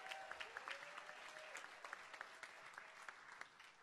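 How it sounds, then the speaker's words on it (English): Applause from an audience at a camp-development symposium, steady clapping from many hands across the room, moderately distant and continuous, with a few sharper claps and faint voices mixed in. "Can we give them a round of applause?"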